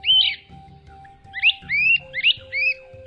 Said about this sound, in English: It's today's featured feathered friend, Maiarchus crinitus, the great crested flycatcher.